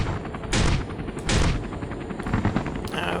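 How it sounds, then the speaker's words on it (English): Flat cannon firing in the Space Engineers video game, heard as several loud, sharp bursts spaced about a second apart over a steady low rumble. "Alright, flat cannon."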